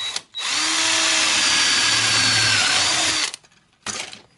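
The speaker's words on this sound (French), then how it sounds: "pour pouvoir percer, là c'est quand même mieux si je mets un support en bois en dessous" Power drill boring through a car bonnet panel resting on a wooden support, one loud sustained whine of about three seconds, then a brief second burst, no speech.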